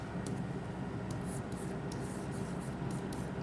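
Faint scratchy strokes of a teacher writing notes during a class on acids, bases and salts, short repeated bursts over a steady low background hiss.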